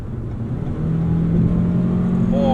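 A Toyota RAV4 accelerates from inside the cabin, a low engine drone that swells and holds as revs climb, with a faint rising whine over steady road noise.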